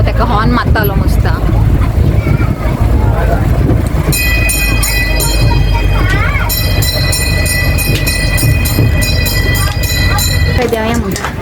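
Loud, steady rumble and rattle inside a moving train during a ride, with high tonal whines partway through and people talking over it throughout.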